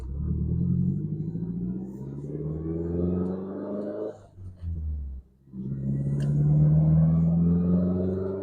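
A Nissan S15 engine rumbles steadily at close range, with a mid-pitched tone that rises as the car pulls away, dips briefly around a gear change, then climbs again. No one speaks.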